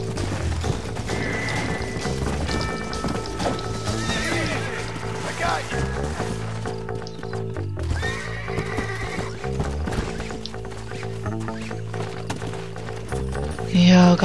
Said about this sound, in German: Pferd, bleib stehen.